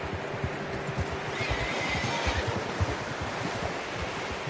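A horse whinnies in the video game Red Dead Redemption 2 over a constant wash of wind and surf-like noise, with faint hoof clopping in the background; no one speaks.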